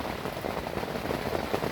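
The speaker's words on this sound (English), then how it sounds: "It's not stopped raining now since about 8:30 this morning." Heavy rain pours steadily at a carp and catfish fishing spot, a dense, even hiss of drops pattering on surfaces with no letup and no voices.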